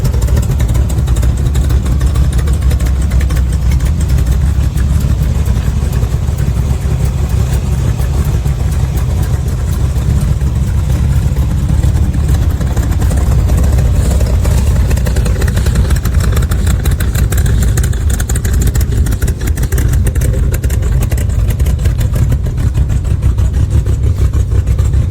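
A 1967 Shell Valley Shelby Cobra sits at idle, its engine giving a loud, steady, low rumble that runs unbroken and alone throughout.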